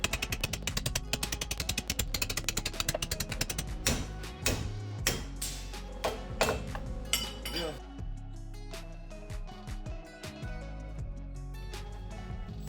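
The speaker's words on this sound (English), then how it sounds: "Then I take a hammer and a chisel and I just get after it." Sharp metallic hammer blows on a chisel driving out a bushing flange from a Toyota lower control arm, rapid close strikes at first, then slower, more irregular clanks toward the end.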